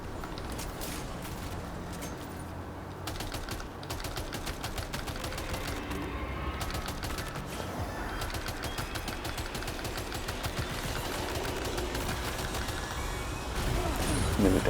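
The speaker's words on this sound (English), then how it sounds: "I'm wasting grenades here." Sustained rapid gunfire and explosions from grenades and firearms in the video game Death Stranding 2, a dense, continuous barrage of overlapping shots and blasts that builds louder toward the end.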